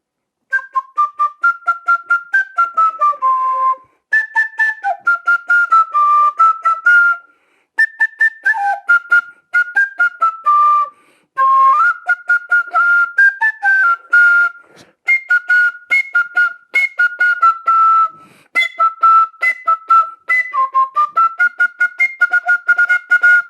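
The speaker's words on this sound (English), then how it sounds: "The small little pea whistle." A small pea whistle with a wooden ferrule plays a lively tune of short, bright, warbling phrases, broken by brief pauses and heard up close and clear with no other sound.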